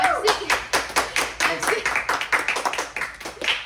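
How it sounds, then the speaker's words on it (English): A small group in a room claps in a round of applause, a dense patter of individual hand claps that stays fairly steady for a few seconds at close range. "For the people in the room, Mind you, can we get a round of applause?"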